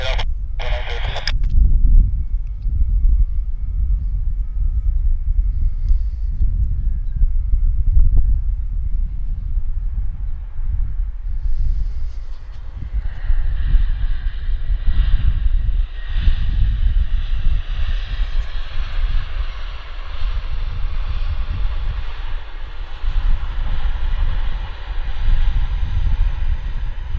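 An airliner lands at Vancouver Airport with a steady, loud low roar of jet engines that holds throughout, and radio chatter crackles over it near the start.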